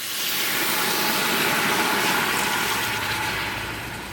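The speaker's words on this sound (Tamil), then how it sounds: "தலை கால் வேகிற அளவுக்கு தண்ணி ஊற்றிக்கலாம்." Water streams steadily into a cooking pot holding goat head and legs for a Tamil curry, a loud, continuous rushing pour that fades slightly toward the end, with no talking.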